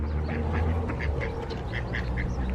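A duck at a pond quacks in a quick run of repeated nasal calls, fairly close over a steady outdoor background rumble, with no talking.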